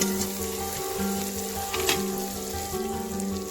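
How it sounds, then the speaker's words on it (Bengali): Chilli and turmeric powder frying in oil for a dhaba-style egg curry, a loud, continuous close sizzle with faint stirring underneath. "এবার আমরা দিয়ে দেব হলুদ গুঁড়ো, দিয়ে ভালো করে নেড়ে"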